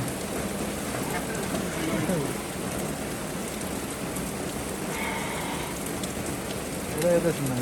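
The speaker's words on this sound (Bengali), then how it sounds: "বৃষ্টি একটু কমছে অবশ্য।" Steady rain pours down outdoors in a dense, continuous hiss of drops on surfaces, close and even throughout, with faint voices in the background.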